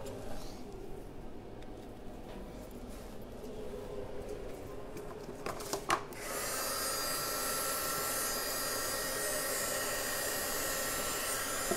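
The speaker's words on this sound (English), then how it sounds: "So I'm going to grab my heat gun, dry this up." A heat gun drying wet glue on paper switches on partway through and blows with a loud, steady whoosh, following a stretch of quieter room noise with faint knocks.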